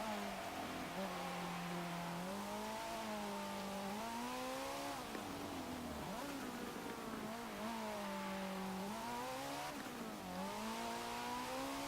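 A 2003 Renault Sport Clio in Forza Motorsport 7 holds a steady, rising engine note through the gears on a straight, with brief dips at shifts, continuous and fairly quiet.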